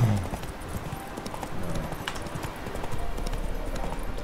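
Horse hooves clip-clop in a steady rhythmic gait over a continuous soundscape in the game The Witcher 3: Wild Hunt, moderately loud and close.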